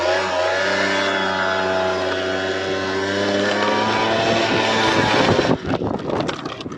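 A Piaggio NRG scooter engine revs up, its buzzing whine climbing steadily in pitch as it gains speed, loud and close, then breaks into rougher rattling bursts near the end.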